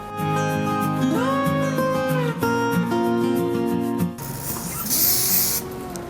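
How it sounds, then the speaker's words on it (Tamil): Tonal music plays, then gives way to a close, airy hiss of a hair spray can released in a short burst. "அதுக்கேற்ற மாதிரி டிஸ்டன்ஸாக வச்சு ஸ்ப்ரே பண்ணிக்கோங்க"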